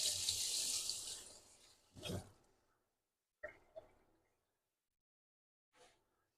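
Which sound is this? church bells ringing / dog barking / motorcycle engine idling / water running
water running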